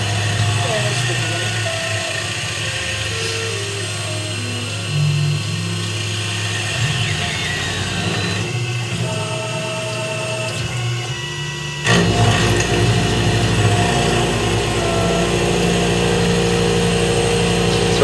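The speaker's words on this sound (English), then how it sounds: "So right now we're just roughing out the blades." Machine shop milling roughs out knife blades with a large stepover cut, a steady mechanical whir and tonal drone running throughout, louder and denser in the last stretch, with a person speaking briefly over it.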